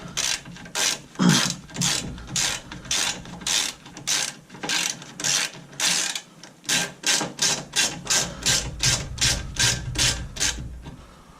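A ratchet spanner undoes a 14mm nut on a Triumph Spitfire suspension droplink, giving a fast run of sharp, close clicking bursts in a steady rhythm with brief pauses between strokes.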